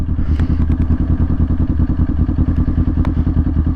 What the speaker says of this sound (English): Or you gotta have to engine brake a little.